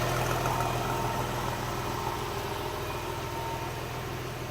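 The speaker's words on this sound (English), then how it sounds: "But it's got a great idle to it." A 1999 Porsche Carrera sits at a steady, even idle, a low continuous engine hum with a fine pulsing texture, close and unchanging throughout.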